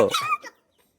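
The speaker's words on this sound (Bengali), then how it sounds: "মুরগি?" A chicken gives a short, close burst of clucking at a rural village home during the Makar Sankranti festival, lasting about half a second before silence.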